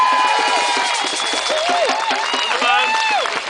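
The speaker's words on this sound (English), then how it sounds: "Give him a big round of applause there" A large crowd at an anti-water-tax protest rally in Dun Laoghaire, Ireland, applauds and cheers continuously, with whoops and shouts rising above the steady clapping.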